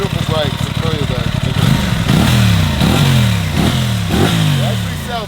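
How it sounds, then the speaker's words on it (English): A 2026 Aprilia RS660 Factory motorcycle with its stock exhaust revs repeatedly, each throttle blip rising and falling in a rhythmic series over a steady engine drone, close and loud. "It actually sounds really good for a stock exhaust"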